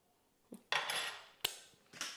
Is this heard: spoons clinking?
yes